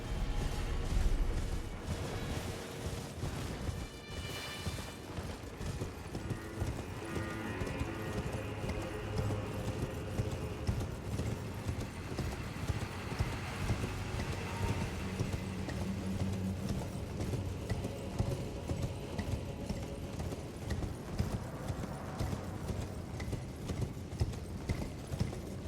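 A horse's hooves gallop steadily in Elden Ring: Shadow of the Erdtree, a dense rhythmic clip-clop running continuously under game music and ambience.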